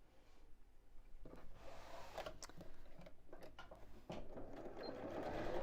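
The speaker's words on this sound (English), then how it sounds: "Let's sew these two pieces right sides together just along the long side here" Domestic sewing machine stitching two fabric pieces right sides together along a long seam for a foam-lined Easter basket, running in a steady continuous whir with short pauses and restarts, close and fairly loud.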